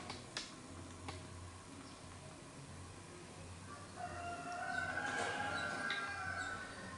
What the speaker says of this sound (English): Why is it the cockerel always wakes up when I start filming?